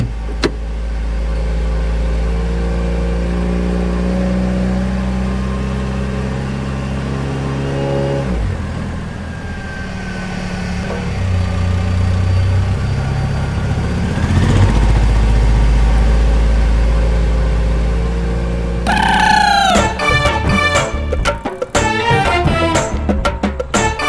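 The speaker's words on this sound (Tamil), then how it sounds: "வண்டி போயிருச்சு" A car engine idles and then revs as the vehicle pulls away, a loud, steady, close motor drone that gives way to music near the end.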